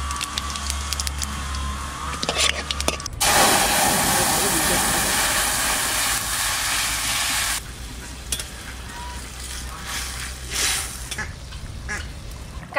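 Cumin seeds and bay leaf tempering in hot oil in a village-style outdoor kitchen give a loud, steady, crackling sizzle. It swells in the middle of the stretch and then eases back to a lower hiss, with faint stirring and a voice now and then.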